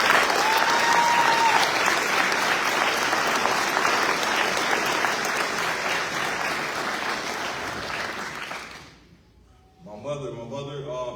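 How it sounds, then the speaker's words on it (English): Sustained, loud audience applause at a United States Navy retirement ceremony, a dense wash of clapping that fills the room for about nine seconds before dropping away, after which a voice begins speaking. "Clap it up for Crystal."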